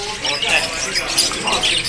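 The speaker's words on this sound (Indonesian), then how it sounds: "udah bunyi ya teman-teman dari burung jalak rio nya" A jalak rio starling calls at a busy bird market with squeaky, chattering notes over a steady babble of crowd noise and nearby talk.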